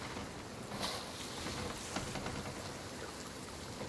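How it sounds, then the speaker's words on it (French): Rain falls steadily in a pirate-ship video game, a soft, even hiss of drops with scattered faint taps, continuous and unbroken at a moderate level. "c'est l'eau de la pluie, c'est normal."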